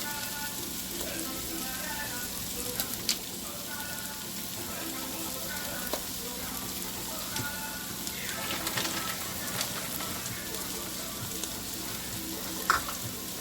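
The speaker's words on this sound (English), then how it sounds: "I'm going to add the beef broth now" Beef broth is added to a pot that is cooking for dinner, giving a soft, continuous sizzle and bubbling with faint stirring clicks, low in level and with no voices.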